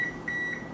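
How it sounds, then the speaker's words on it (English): A kitchen oven timer goes off during lasagna baking, giving three short, evenly spaced electronic beeps at a steady high pitch over a quiet room hum. "So our timer's gone off"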